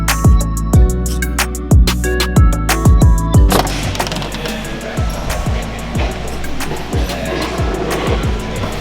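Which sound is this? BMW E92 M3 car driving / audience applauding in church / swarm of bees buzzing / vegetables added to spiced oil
BMW E92 M3 car driving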